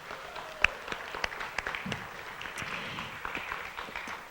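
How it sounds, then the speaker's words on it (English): An audience at a small talk event applauds, a moderate patter of scattered individual claps at medium distance, thinning slightly as it goes on. "So one more round of applause for Haley."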